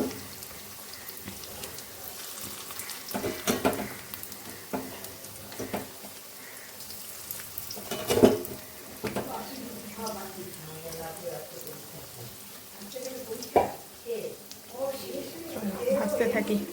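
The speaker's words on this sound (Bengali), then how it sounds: "তো বড়া যে কটা আছে সবগুলোই ভেজে নেব।" Fritters made from fish oil fry in a kadai at home, giving a soft ongoing sizzle and crackle with occasional sharper pops, partly under people talking nearby.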